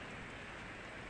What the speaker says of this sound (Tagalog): Pero sa ngayon, bumalik na naman yung ulan.